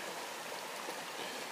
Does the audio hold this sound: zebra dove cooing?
no